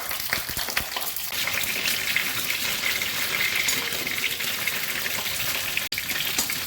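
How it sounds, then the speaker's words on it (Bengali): Pointed gourds (potol) frying in hot mustard oil give a steady, dense crackling sizzle with a few sharp pops, continuous and fairly close throughout, with no voices. "পটলগুলো এভাবে ভেজে নিচ্ছি"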